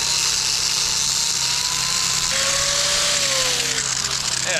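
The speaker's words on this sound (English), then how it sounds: "doing a little grinding, getting this piece of rebar off right down here" An angle grinder cuts through a piece of rebar on a cabin build site, a continuous loud whine with a high tone that slowly slides in pitch as the disc bites.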